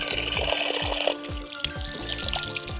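Water runs from a public drinking fountain in Barcelona's Sarrià-Sant Gervasi district, a steady close splashing stream with gurgling pulses as it hits below, amid faint street ambience.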